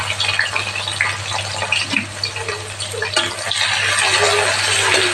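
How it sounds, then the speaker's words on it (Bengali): Vegetables sizzle in hot refined oil in a pan while cooking veg chowmein, a steady close hiss and crackle that swells louder toward the end, with a low electrical hum underneath. "তো প্রথমে আমি এগুলো ভেজে নিচ্ছি সবজিগুলো। এটা রিফাইন তেলে করছি আমি"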